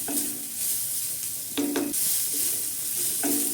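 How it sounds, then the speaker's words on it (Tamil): Shredded cabbage sautéing in a hot pan, a continuous bright sizzle broken by a few quick scraping stirs of the spoon, close and clear with no voices. "அதையும் போட்டு நல்லா வதக்கி விட்ருங்க"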